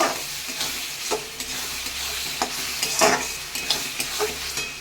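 Spice paste for a mutton curry being stir-fried in a pan, with a continuous sizzle broken by repeated scraping strokes of a spatula, close and moderately loud, with no voices.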